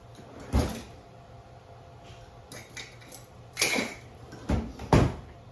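Drawers and cupboard doors opened and rummaged through, with about five sharp knocks and clatters at irregular intervals and quiet pauses between them, heard close by.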